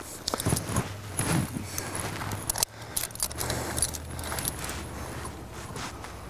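An ice screw is spun into climbing ice by hand, giving a continuous close metallic clinking and rattling that pauses briefly partway through before resuming.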